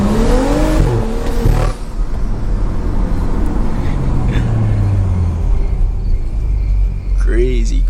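A Stage 2 BMW driven hard at night rumbles and revs loudly with rising and falling engine tones, while someone talks over the noise from inside the car.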